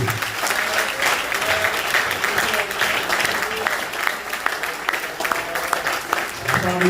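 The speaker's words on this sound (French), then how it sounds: "Applaudissez l'agneau." A church congregation applauds during worship, dense sustained clapping that fills the whole stretch at a loud, steady level with voices mixed in.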